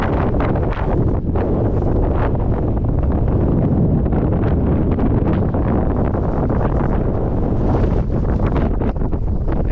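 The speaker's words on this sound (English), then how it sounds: "it's windy out here today. Windy and dusty." Strong desert wind buffets the microphone in a steady, loud roar with gusty rustling throughout, no voices, at an ancient Egyptian pyramid site.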